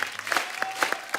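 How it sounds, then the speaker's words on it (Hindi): Audience applause on a TV comedy talk show set as actor Pankaj Kapur is welcomed, a dense wash of clapping with a few sharper claps standing out, steady and fairly close. "जोरदार तालियां एक बार पंकज सर के लिए"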